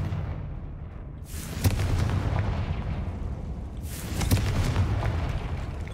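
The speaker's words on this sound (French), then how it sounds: "Oh là, ce sort de Confringo." Two heavy blasts of the Confringo fire spell in the video game Hogwarts Legacy, each a sudden booming burst with a roaring tail, spaced a couple of seconds apart over a steady low rumble.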